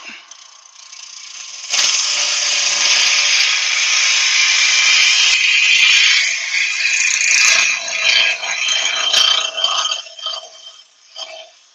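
Yew being turned into a hollow form on a lathe, a loud sustained scraping hiss of the gouge cutting the spinning wood, with short pauses and a tapering finish.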